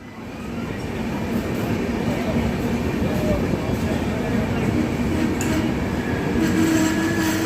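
Howrah–SMVT Bangalore express train pulls into Srikakulam Road station, a steady loud rumble of wheels and carriages throughout with faint rail squeal and background voices.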